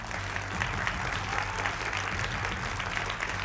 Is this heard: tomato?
no